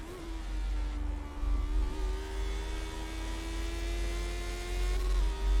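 Steady engine of a Lotus 79 Formula One car in the iRacing sim, a smooth, sustained buzzing tone climbing gently under power, with a short lift around the middle, close and uninterrupted.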